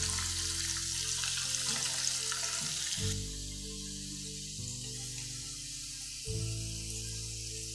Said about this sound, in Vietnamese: Mực này mình chiên cũng rất là nhanh nha các bạn, tại mực nó rất là mau chín.